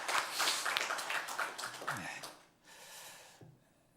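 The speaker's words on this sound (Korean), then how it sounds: "큰 박수로 한번 축복 하시면 감사합니다" A church congregation claps together in a short burst of applause, loud and close at first, then fading out, with a little speech and a few stray claps at the end.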